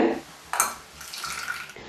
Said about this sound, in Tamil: மிக்சி ஜாரை கழுவி அப்படியே கொஞ்சம் தண்ணி விடுறாங்க